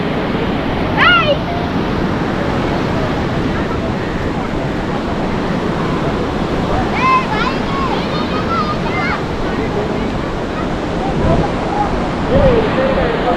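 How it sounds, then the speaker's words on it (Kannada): Ocean waves roll onto a beach where children play in the water. A loud, continuous surf roar fills the scene, with faint voices calling now and then underneath. "ಅಲೆಗಳು ಬರ್ತಿರೋದು ನೋಡ್ರೆ ಭಯ ಐತೆ"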